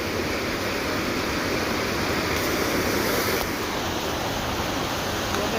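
A nearby waterfall pours in a continuous, dense rush of water, loud and even throughout, its hissing roar holding steady with no talking over it.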